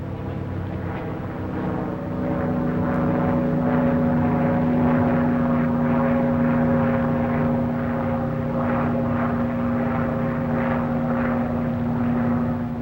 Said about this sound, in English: The plane feels normal now that it's off the ground.